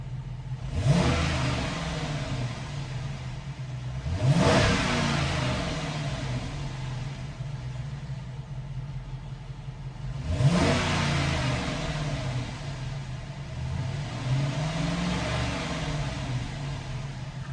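From inside the cabin, a Chrysler 300C with a Hemi V8 gets three sharp blips of the throttle spaced several seconds apart, each rising quickly and settling back to a steady muffled idle.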